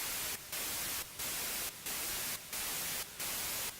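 Steady hiss of white noise on a Korg Gadget synthesizer for a hi-hat, broken by short regular dips into five even bursts, loud and alone with no voices.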